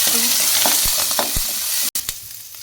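Green chillies and curry leaves sizzle and fry in hot oil in a pan for radish chutney, a steady crackling hiss broken by a few scraping stirs of a spoon.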